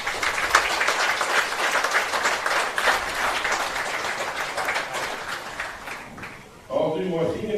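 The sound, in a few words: audience applause for firefighters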